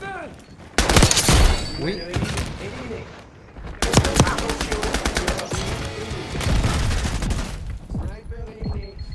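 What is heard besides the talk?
MP40 submachine gun firing in a multiplayer video game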